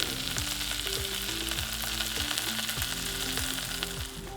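Sesame seeds toast in a hot pan, giving a constant close crackling sizzle with fine popping across its full length. The sound stays steady and fairly loud, with no speech.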